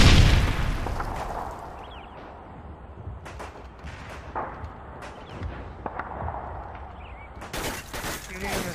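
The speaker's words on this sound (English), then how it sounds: "Throwing a stun grenade!" A stun grenade goes off in a tactical shooter video game as a loud sharp bang at the start, followed by scattered gunshots and distant impacts, with people talking over the action.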